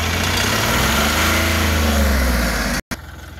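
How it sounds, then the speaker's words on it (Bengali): A 2020 Ashok Leyland Dost Plus truck's diesel engine is revved close up in a loud, sustained roar that cuts off abruptly near the end. "অ্যাক্সিলেটার বাড়ি দেন"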